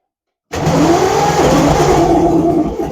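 Vintage British motorcycle engine, in fourth gear, sputtering and struggling to run, bursting into a loud close rough idle after silence and wavering unevenly for a few seconds.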